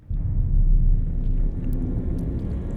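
Deep, steady storm rumble rolling in from a distance in the fantasy game Elder Scrolls Online, a low continuous roar that swells early and then holds at an even level, with no voices over it.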